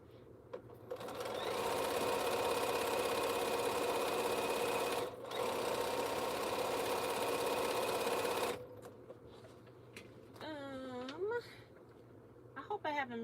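A sewing machine stitches a T-shirt quilt seam in a steady, fast mechanical whir for several seconds, pauses briefly, runs again, then stops while a voice speaks quietly near the end.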